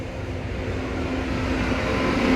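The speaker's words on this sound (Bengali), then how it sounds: "ট্রেন যাচ্ছে, এটা আমার বাড়ি একদম আমার ঘর থেকে ট্রেন দেখতে পাই।" A train running through Jirat station, heard as a steady, broadband rumble that slowly grows louder over a couple of seconds, with a faint tonal hum underneath and no talk.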